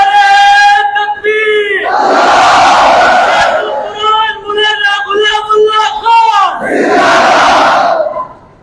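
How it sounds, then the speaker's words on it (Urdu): Crowd of young men at an Islamic conference chanting slogans in loud, roaring unison, with a single voice leading between bursts of the crowd's answering shout; near, powerful and continuous. "نوجوان اتنے جوش سے نعرے مارتے ہیں"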